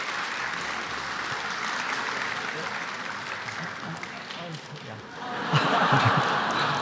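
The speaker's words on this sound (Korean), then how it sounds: "우리 박수로 이 아이를 축복합니다." A church congregation applauds to bless a child during a Sunday service, sustained mid-distance clapping that swells louder near the end, with some laughter and a voice speaking over it.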